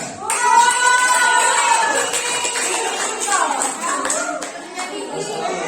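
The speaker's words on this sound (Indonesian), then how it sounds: "Oke, tepuk tangan." A classroom full of children claps and cheers loudly, hands patting in a dense, sustained burst with excited shouts mixed in.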